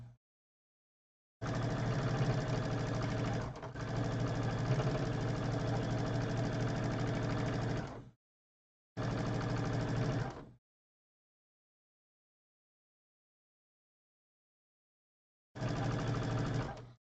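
A sewing machine runs in long steady bursts while stitching the long border seam of a quilt, humming loud and close, then stopping and restarting twice after silent pauses.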